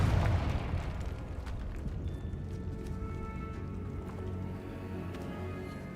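A fire-blast spell explodes in the wizarding game Hogwarts Legacy: a deep boom at the start that decays into a rumbling, crackling tail for several seconds, with no one talking.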